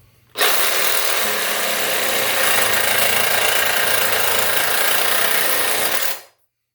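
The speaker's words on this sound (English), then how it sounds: "plan B says get a saw and cut it off" A power saw cuts through a rusted bolt holding down an old toilet during a bathroom toilet replacement. It makes one loud, continuous, harsh grinding whine for about six seconds, then stops abruptly.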